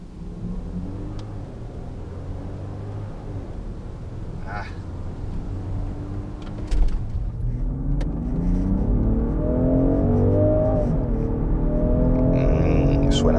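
A Range Rover Sport P510 accelerates hard from a standstill in a drag race, its engine building a loud, rising roar that swells steadily over several seconds.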